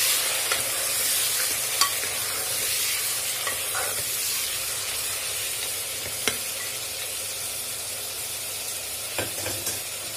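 Mutton korma masala stirred and frying in a pan for a Lucknow-style korma, a steady close sizzle with occasional scraping stir clicks throughout.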